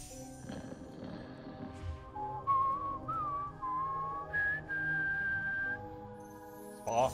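A whistled melody of the year one song from the Harry Potter for Kinect video game, played as a few sustained, wavering notes over quiet background noise.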